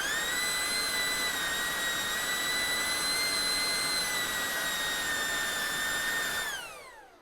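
Ingco 20V cordless blower running flat out at full speed, a loud steady high-pitched whine and rushing air held for about six seconds before the motor spins down.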